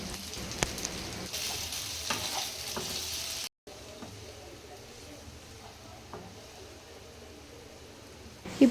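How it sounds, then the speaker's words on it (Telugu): Red pasta with coriander being stirred in a pan on the stove, a steady soft sizzle with faint scraping strokes, close and continuous, briefly cut off partway through. "ఇప్పుడు పైనుండి కొంచెం కొత్తిమీర వేసి కలుపుకొని స్టవ్ ఆఫ్ చేసుకోవాలి"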